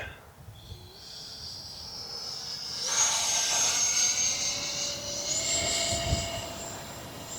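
A small Arrows RC L-39 Albatros 50mm model jet whines overhead on a windy, cloudy day, its high engine tone rising and falling as it passes, with steady wind noise and rushing air underneath.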